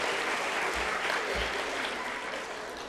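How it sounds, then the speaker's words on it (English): A school audience at a primary awards ceremony gives a sustained round of clapping for a former student, dense and steady, tapering slightly toward the end. "So we can give her a round of applause as well."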